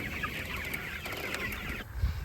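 Broiler chickens in a movable pen make many soft, overlapping clucks close by over a steady background hum.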